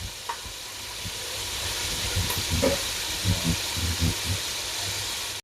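Onions frying in a pan for a homemade chicken biryani, a steady close sizzle with intermittent soft stirring clatters and thumps, no voices.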